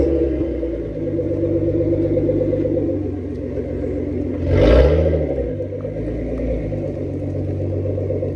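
A twin-turbo Infiniti G35's engine idles with a deep steady rumble, then swells into a brief rev near the middle before settling back to a loud, even drone.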